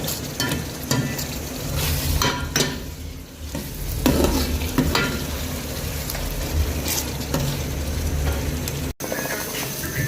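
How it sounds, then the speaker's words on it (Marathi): Chicken for biryani cooks in a pan, a loud continuous sizzle near the mic with repeated scraping stirs and clatter throughout, no voices. "चिकन आपलं शिजतं आहे"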